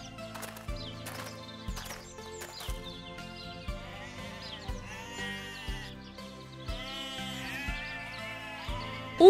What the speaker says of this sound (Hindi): उन सभी भेड़ों को देखो